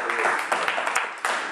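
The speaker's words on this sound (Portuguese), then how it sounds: "E quem crê, bate palmas para o Senhor" A church congregation claps along, a dense wash of hands slapping in loose rhythm with brief swells, heard under a voice speaking.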